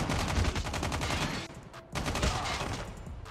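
Rapid automatic gunfire in the mobile shooter COD Mobile crackles in dense, loud bursts, with a short pause before a second volley.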